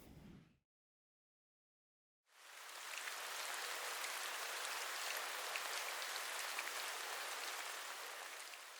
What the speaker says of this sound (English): the weather was terrible. It was pissing f***ing rain.